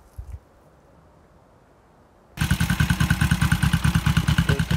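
A Suzuki GS450 cafe racer motorcycle starts up after a quiet moment and runs with a loud, close, rhythmic engine pulse, its running somewhat rich.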